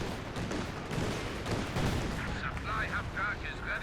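Dense, continuous rumble of mortar pits firing amid a busy battle in the strategy game Company of Heroes 2, with booms blurring together and a voice faintly audible toward the end.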